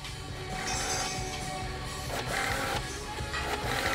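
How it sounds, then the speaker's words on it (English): A busy restaurant kitchen printer from a TV drama chatters out order tickets without pause, a steady dense mechanical whirring and clacking that runs the whole time with no gaps. "It just keeps fucking printing."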